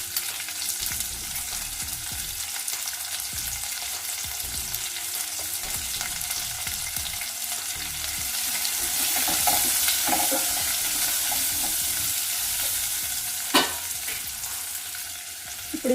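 Curry leaves go into hot oil with turmeric in a frying pan and get stirred, a continuous close sizzle and crackle with occasional scraping of the spoon, swelling briefly partway through, with no talk.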